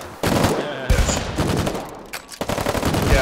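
Weapons in the war game Foxhole fire in dense, rapid bursts, with close overlapping gunshots crackling over brief pauses and a voice talking faintly beneath the shooting.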